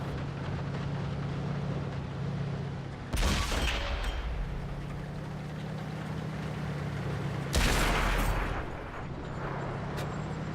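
Two heavy booming blasts of tank gunfire in the console version of World of Tanks, one near three seconds and one near eight, each loud and abrupt over a low steady engine drone.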